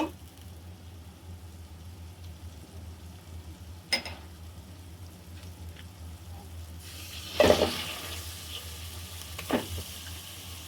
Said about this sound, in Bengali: এখন আমি মাংসটা দিয়ে দিব